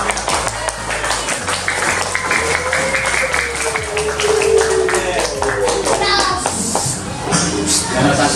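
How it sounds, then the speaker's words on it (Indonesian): Children in a combined-grade classroom clap their hands together, a busy patter of many small claps mixed with kids' voices and chatter, moderately loud and close throughout. "karena saking bahagia sampai tepuk tangannya berlebihan ya"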